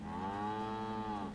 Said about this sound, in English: Oh, why do you just sound like a normal cow?